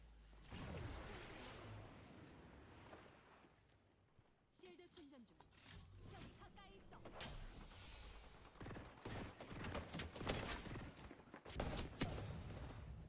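Apex Legends gunfire: a quiet, distant rattle of bursts and single shots mixed with whooshing movement sounds, partly under soft background voices.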